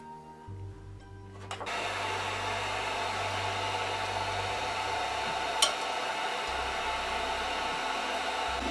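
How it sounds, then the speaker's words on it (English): A heat gun blows a steady, loud airflow hiss onto a 3D printer build surface (an Anycubic Ultrabase glass bed on a CR-10) to soften leftover glue, starting after a brief low hum and running continuously alone. "So what I'm going to do is use my heat gun and heat this up to make it a little bit easier."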